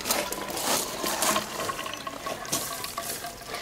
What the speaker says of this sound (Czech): Tady máte za úkol nalévat tadyhle tu vodu do té nádoby